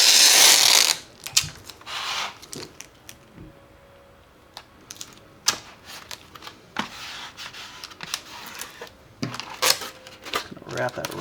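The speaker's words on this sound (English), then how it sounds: "we can take a piece of tape and tape the center seam." Tape is ripped off a roll and pressed over a foam-board seam, with a long tearing burst followed by scattered crackles, pats and rubbing.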